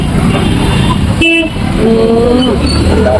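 Heavy traffic jam at a busy Sunday market road, with a car horn tooting briefly amid dense engine and road noise and surrounding chatter.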